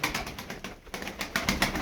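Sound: pigeon cooing

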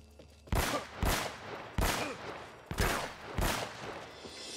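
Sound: gunfire from a big gun in the video game Uncharted: Drake's Fortune

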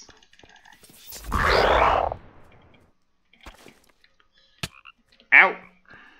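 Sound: toads croaking in Minecraft video game

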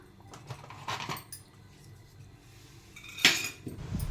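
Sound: mixing poha puttu with grated coconut

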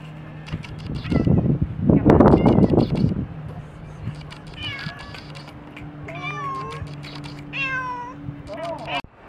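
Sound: cross-eyed cat meowing

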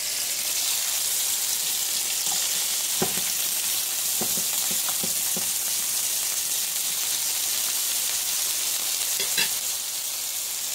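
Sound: whole onion frying in a pan

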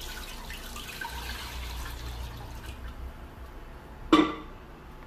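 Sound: pouring three glasses of water into a pan

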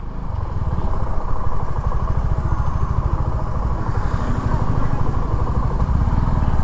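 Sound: Suzuki V-Strom motorcycle engine

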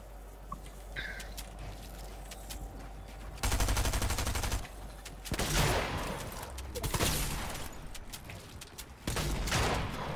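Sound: gunfire in Fortnite video game

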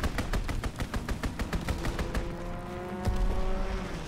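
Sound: gunfire in a WW2 video game

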